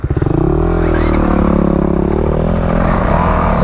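A Honda 300L dual sport motorcycle rides along with a loud, close, throbbing engine note and wind rumble, its pitch rising and falling slightly as it travels.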